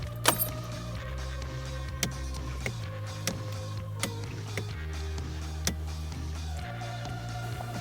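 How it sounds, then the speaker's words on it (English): A VW Golf 7 with its ignition switched on but the engine not started gives a steady low electrical hum and whir of systems powering up, with sharp faint clicks and ticks scattered throughout, no engine running. "turn on the ignition, but we are not going to start the car."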